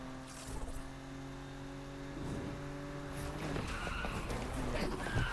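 A car drifts in a racing video game, its tires squealing in sustained tonal streaks over a rumbling engine, with skidding and clattering noise building toward the end.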